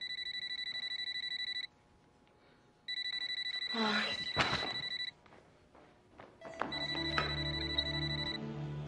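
A house telephone rings in two clear, loud bursts of electronic trilling, with a woman's brief exclamation and some thumping handling noise between them before a third ring begins.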